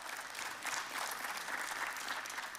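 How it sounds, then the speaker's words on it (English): A church congregation claps during a sermon, a brief burst of dense applause from the seated crowd, fairly close and even throughout. "Thanks for clapping."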